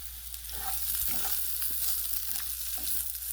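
Brussels sprouts sear in olive oil in a pan, making a loud, continuous crackling hiss with a few soft bumps from the pan throughout.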